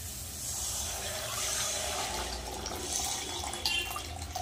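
Water is poured into a fried fish curry masala in a cooking pot, giving a continuous, fairly quiet rushing and splashing pour with a faint bubbling edge; no one speaks.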